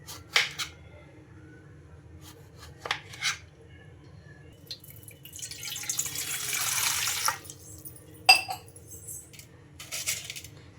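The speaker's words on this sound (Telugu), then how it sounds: "ఇంకా ఇలా ఉప్పు వాటర్లో అయితే వేసుకుంటున్నాను" Bottle gourd pieces drop into a bowl of salt water with a few soft plops and splashes, followed by a longer watery swish as they are stirred or poured, close and quiet with no talking.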